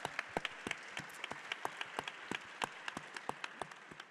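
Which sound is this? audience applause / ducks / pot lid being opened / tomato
audience applause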